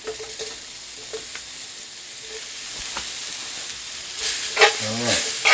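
Onions drop into a hot cast iron skillet for a beef pot roast, crackling with a soft, steady sizzle and some stirring, then flaring louder near the end.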